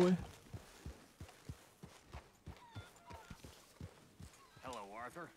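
Horse hooves clip-clop at a steady walking rhythm in a video game, with evenly spaced soft thuds played fairly quietly. A short voiced sound rises near the end.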